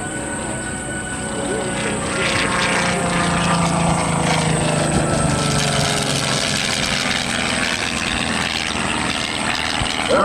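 A LongEz canard aircraft flies an airshow demonstration at Willow Grove in 2003, its engine and propeller giving a steady, loud, broad drone that holds throughout with little change in level.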